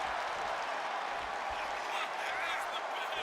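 Steady crowd applause and cheering from a WWE 2K25 video game wrestling match, a dense continuous roar of clapping that stays level throughout.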